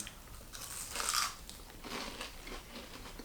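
Crunchy air-fried onion rings being bitten and chewed up close, one crisp bite followed by a few softer crunching chews, quiet and with no talking.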